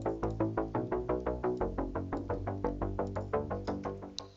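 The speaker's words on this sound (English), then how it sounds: "This synth is supporting the main melody theme" A synth line made in FL Studio supports a main melody, pulsing in rapid, steady rhythmic stabs with a bright attack and quick decay, close and clear with no voices.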